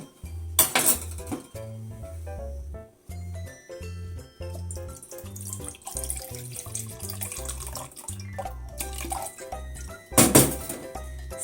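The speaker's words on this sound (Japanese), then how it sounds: "酢は 100cc ほど入れます。" About 100 cc of vinegar is poured over prepared carrots, a liquid splashing and trickling into a container amid light clinks of kitchenware, under steady rhythmic background music.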